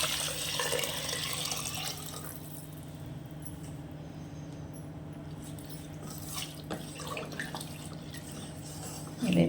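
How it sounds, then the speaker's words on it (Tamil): Water poured into rice for vegetable pulao, a soft splashing stream at first, then quieter trickling and faint drips over a low steady hum. "இப்போ இது கூட நம்ம தண்ணியை சேர்த்துக்கலாம்"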